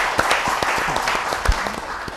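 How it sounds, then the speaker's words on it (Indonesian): Close, loud clapping from a talk show audience, with distinct individual claps popping out of a continuous patter of applause. "Boleh tepuk tangan untuk kita semuanya."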